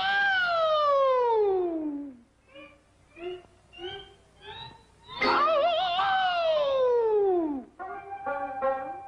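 A voice imitates an air raid siren: a loud wailing tone slides downward, choppy bleats follow, then another long descending wail and more bleats.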